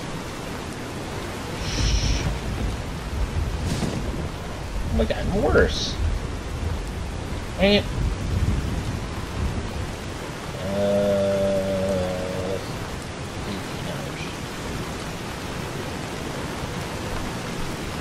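Steady rain hisses throughout a Fallout: New Vegas wasteland scene, with low rumbling thunder underneath and someone talking over it at points.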